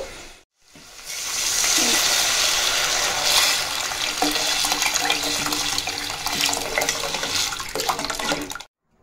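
Water is poured into rasam and stirred in, giving a steady broadband splashing wash that runs for several seconds, loud and close, with no talking.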